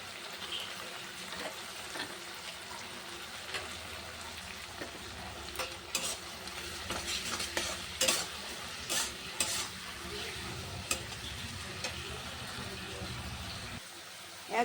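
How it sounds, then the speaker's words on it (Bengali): Garlic, chili and ginger paste frying in a pan, a steady sizzle broken by repeated scraping stirs that grow busier toward the middle, with a low rumble underneath. "এবার রসুন কুচি, রসুন পেস্ট লঙ্কা পেস্ট, আদা পেস্ট একটু দিয়ে দিলাম।"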